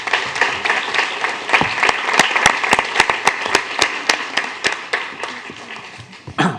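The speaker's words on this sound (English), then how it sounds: "And can we give Mr. Raber a round of applause as well?" An audience at a school board meeting claps for a speaker, a moderate round of scattered individual hand claps forming steady applause, with a few sharp close claps standing out and slowing toward the end.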